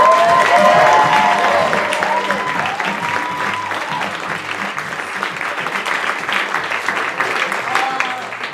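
Audience applause fills a theater at the close of a show, dense and sustained clapping from a large crowd that fades slightly over time, with a few voices calling out beneath it.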